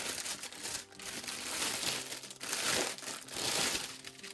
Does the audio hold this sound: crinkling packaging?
yes